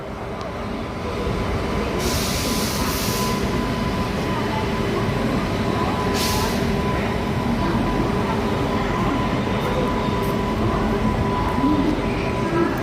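The Golconda Express rushes past at high speed at night, a loud continuous rumble and clatter of wheels on track with a couple of brief hissing bursts.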